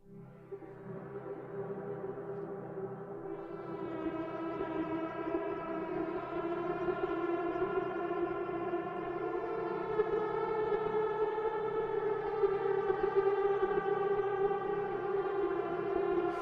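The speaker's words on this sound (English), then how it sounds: "let's just head over to Jakob's pack here and try one of his pads" A sustained retro 1980s-style synthesizer pad from an iOS synth app swells slowly and holds a rich, buzzy chord that brightens after a few seconds, playing alone without any talk.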